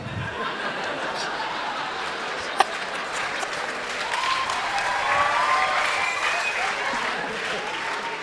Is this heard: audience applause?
yes